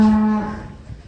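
A giant cow lets out a loud, close moo with a steady low tone that fades over about a second, heard on its own.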